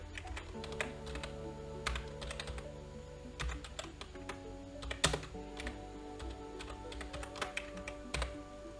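Steady clicking of code being typed on a computer keyboard, close and fairly quiet, with irregular bursts of keystrokes and a few louder taps, no talking.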